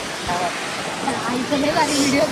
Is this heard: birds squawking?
no